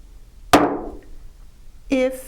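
A hammer delivers one sharp strike to a metal stamp set on metal, a bright ringing crack that decays over about a second, followed by a brief pitched tone near the end.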